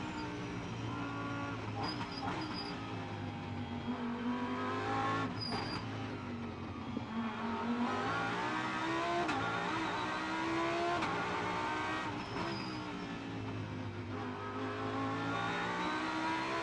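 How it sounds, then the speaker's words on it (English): Onboard engine of a GT race car lapping the Macau street circuit during an FIA GT World Cup qualifying race, a steady loud droning roar that rises and falls with revs and gear changes throughout, no talking. "Enjoy the noise as you go on board with Eduardo Mortara."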